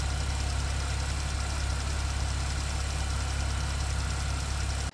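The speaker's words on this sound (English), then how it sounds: "It makes a loud ticking sound whenever you start the car." A Porsche direct-injection car engine idles steadily up close, with a fast, even mechanical ticking from the fuel system running under the hum until it cuts off abruptly.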